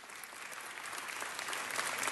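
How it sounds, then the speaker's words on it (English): Steady applause from a crowd at a city council meeting, a dense wash of many hands clapping that holds even and slightly swells over its short span, with no talk over it. "So let's please give them the round of applause that they deserve."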